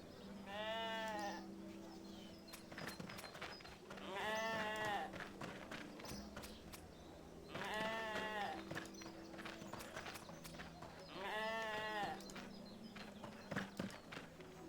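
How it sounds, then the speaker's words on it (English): Sheep in the RuneScape video game bleat repeatedly while being sheared, four wavering calls spaced a few seconds apart over scattered clicks and light taps. "Shearing some sheep."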